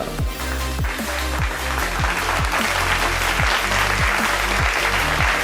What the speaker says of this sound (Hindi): तालियां बजती रहनी चाहिए, तालियों में बिल्कुल भी कोई कंजूसी नहीं